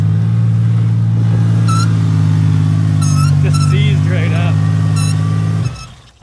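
A car engine runs hard with the throttle held open while the brake is locked on, a loud steady droning rev that holds for several seconds and then cuts off, with a few brief sharp noises on top.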